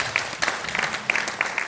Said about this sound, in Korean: 다시 한번 감사의 박수 한번 부탁드리겠습니다